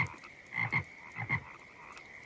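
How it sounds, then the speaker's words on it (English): Several cartoon frogs croak in a chorus, with a few louder, deeper croaks rising out of a steady chirping background, close and moderately loud. "Can you hear all those frogs?"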